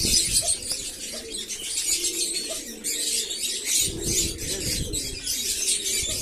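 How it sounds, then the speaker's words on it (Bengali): Mostly white pigeons coo in low, repeated throaty murmurs at close range, accompanied by constant rustling and fluttering of feathers and small scratching sounds. "সাদা পায়রাই বেশি, সাদা কালারের"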